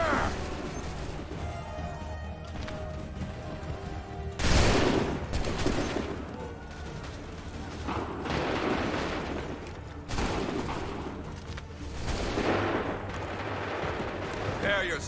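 Musket volleys in the video game Assassin's Creed III, several loud booming bursts of massed gunfire separated by a few seconds, over battlefield ambience and shouted commands.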